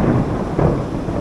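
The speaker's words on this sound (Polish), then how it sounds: "Po zachodzie słońca rozpętała się ulewna burza z konkretnymi piorunami." Thunder rolls low and dull through a heavy rainstorm in the Alps after sunset, a muffled rumble over a steady wash of rain, with no voices.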